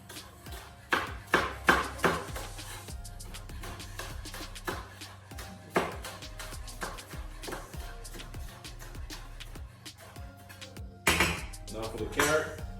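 Knife chopping green onion and cilantro on a cutting board, with irregular clusters of close, sharp chops separated by pauses, a continuous hum underneath, and a person talking at times between the cuts.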